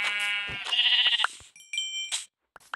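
Sheep or goats bleating in a video game: several loud, harmonic bleats in the first second and a half, followed by short chiming in-game sounds and brief clicks, with no talking.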